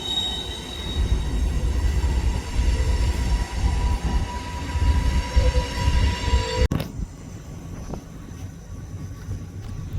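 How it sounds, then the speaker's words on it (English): A BNSF intermodal freight train rolls past close by with a loud, steady rumble of wheels and a squealing rail tone, then the sound abruptly drops to a quieter rolling clatter. "Had your standard BNSF power, leading an intermodal."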